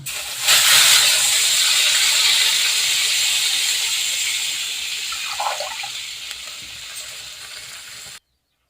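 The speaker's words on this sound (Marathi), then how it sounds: "आता आपण त्याच्यात पाणी ॲड करू" Water poured into a curry of fried spices hits the hot pan with a loud hissing rush of steam that slowly fades and ends abruptly.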